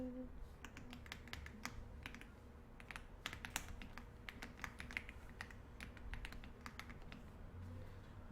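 Computer keyboard keys are pressed at a quiet desk while answers are typed in a Hangul word processor, giving soft, crisp clicks at an irregular pace over low room hum.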